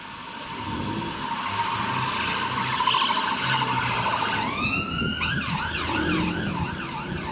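Emergency vehicle siren wailing up and down over steady street traffic noise, rising in near the middle and continuing loudly to the end.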